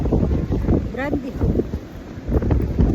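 Strong wind on a beach buffets the microphone with a steady low roar and gusts, while people talk nearby over it.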